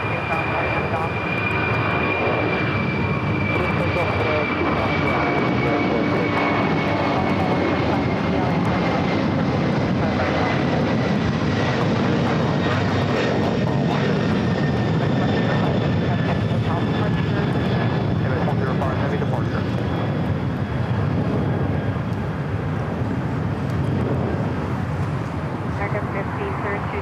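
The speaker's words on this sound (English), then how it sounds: "We're waiting for a couple of heavy takeoffs here on the south side" A heavy jet airliner takes off from the south side runways at Los Angeles LAX, a loud sustained engine roar with a steady high whine across the whole stretch, near and continuous, with voices faintly underneath.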